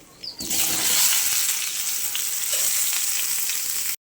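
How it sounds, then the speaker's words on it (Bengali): Mixed vegetables dropped into hot oil seasoned with black cumin, starting with a brief clatter and then a loud, steady, close sizzle of frying that runs for several seconds before cutting off abruptly. "তেল গরম হয়ে গেছে, দিয়ে দিচ্ছি কালো জিরে। এবার দিয়ে দেবো পাঁচমিশালি সবজি"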